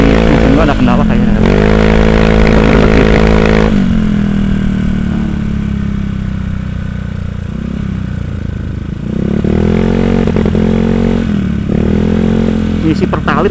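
A motorcycle engine running rough on Pertalite fuel idles close and loud with a lumpy, uneven beat, rising briefly in a couple of short revs.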